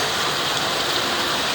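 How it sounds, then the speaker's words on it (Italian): Steady rain falls in Pirri as a dense, even hiss with a low rumbling undertone, constant and unbroken throughout without any voices. "adesso piove non è vero"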